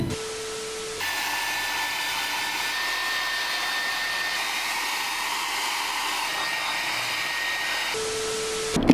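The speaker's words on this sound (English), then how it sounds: "Let me just blow dry it and see if that helps." A hair dryer blows steadily on hair after temporary dye, a loud continuous airy roar running for about seven seconds, switched on abruptly and off near the end, with no talking.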